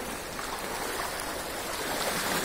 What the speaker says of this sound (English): the flood of Hollongi river